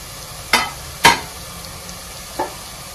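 Chopped green chillies dropping into onions frying in a pan, three sharp sizzling bursts, two close together and one softer, over a faint steady hiss.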